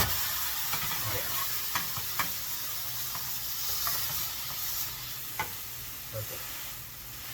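Garlic and an Italian sandwich fry in a pan with a steady sizzle and hiss, broken by occasional clicks and stirring taps, while a voice speaks briefly.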